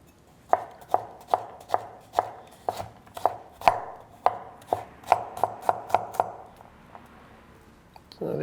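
A knife chops garlic into rustic chunks for a paella, about fifteen crisp, evenly spaced strikes on a board that speed up toward the end, close and clear with no talk.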